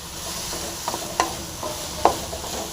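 A poriyal of amaranth stems, sprouted horse gram leaves and brinjal is stir-fried in a pan, giving a low sizzle with several sharp scraping stirs of a spatula.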